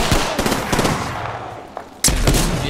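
Rapid automatic gunfire from the video game Apex Legends, sharp repeated cracks in quick bursts, then a pause and another loud burst near the end.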